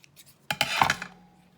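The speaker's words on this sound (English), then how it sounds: "And cut off the excess." Scissors snipping off excess lace or ribbon material on a handmade journal band, a close, short scraping cut lasting under a second, heard alone in a quiet room.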